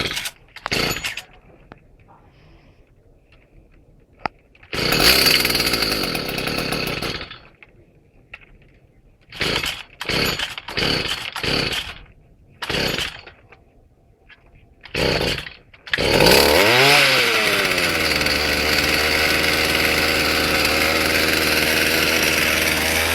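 Stihl FS54 strimmer's small two-stroke engine: repeated short rasping pull-start bursts with pauses between, then it catches, revs up and settles into a loud continuous buzzing run.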